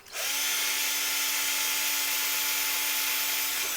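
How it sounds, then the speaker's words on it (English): A power drill whirs steadily at high speed for several seconds, loud and close, spinning up at the start and winding down at the end. "I'm going to take my drill bit, reach in here,"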